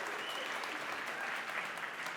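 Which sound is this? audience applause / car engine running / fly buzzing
audience applause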